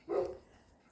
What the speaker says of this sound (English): The puppies has joined me, I'm sure as you can hear them